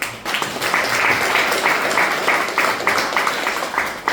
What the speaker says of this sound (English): I would like us to applaud them.